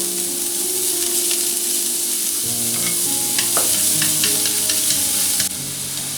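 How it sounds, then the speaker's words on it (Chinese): Scallions and garlic stir-fry in hot oil in a wok, a loud, steady sizzle with scraping stirring strokes and small pops throughout, close up and with no voices. "葱蒜爆香"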